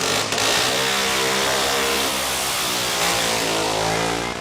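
A classic Honda-based production racing motorcycle engine revs hard and close, a loud sustained rasping exhaust rising and holding with a brief dip before climbing again.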